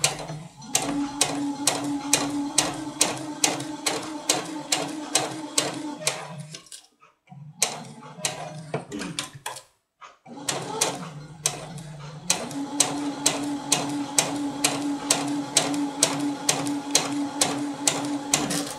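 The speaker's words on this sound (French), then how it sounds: "Maintenant, je viens coudre à 1 cm du bord et j'enlève mes épingles au fur et à mesure." A sewing machine stitches a rounded hem 1 cm from the fabric edge, running in a fast, steady mechanical rhythm close to the mic, with two brief pauses midway before resuming at the same pace; no one speaks.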